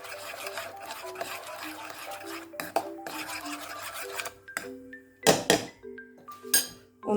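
Mint sauce mixture being stirred in a bowl, a steady scraping and rubbing of utensil against the bowl, with a few louder clinks and knocks toward the end.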